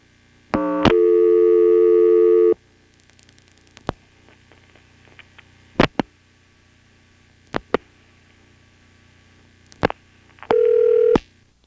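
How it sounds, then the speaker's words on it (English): Telephone tones on an NX1-E trunk in a 1977 Carolina exchange: a long steady tone, then scattered clicks and sharp pulses as digits are dialed, ending with another short steady tone. "I also tried dialing 2 followed by a 3 on this trunk."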